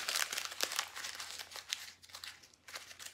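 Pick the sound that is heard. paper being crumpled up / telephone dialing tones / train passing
paper being crumpled up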